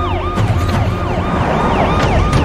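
A loud police car siren wailing close by in a rapid, repeating yelp pattern, with a vehicle's rumble underneath and no voices.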